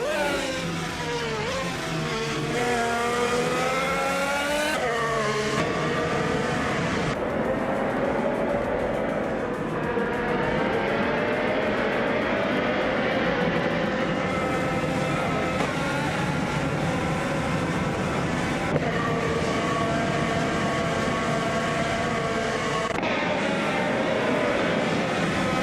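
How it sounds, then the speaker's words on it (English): Synthetic 2018 Honda IndyCar engines race around the Mugello circuit in a video game, holding a steady, loud high-revving drone with rising and falling pitch sweeps as cars shift and pass, continuous throughout with no talk. "The race kicks off at Mugello with Cloud Surfer 69 on pole, piloting a 2018 Honda IndyCar"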